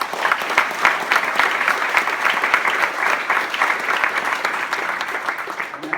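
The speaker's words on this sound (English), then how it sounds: "Let's all join in another round of applause for Mr. Charney." A ceremony audience at a Florida Atlantic University honorary doctorate event applauds steadily, dense sustained clapping filling the room for the whole stretch, with no one speaking over it.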